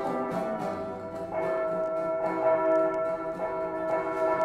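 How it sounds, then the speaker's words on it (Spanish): Cathedral bells peal over and over with bright, sustained ringing tones that overlap in a continuous wash, heard at a moderate distance without any talk. "mientras que las campanas de catedral repicaban y repicaban."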